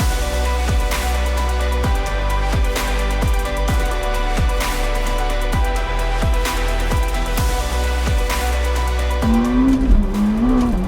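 A 2022 Ferrari SF90 Spider hybrid V8 sports car with the Assetto Fiorano package drones steadily with rhythmic gear-shift surges, then revs climb and waver near the end; loud and continuous, no talking.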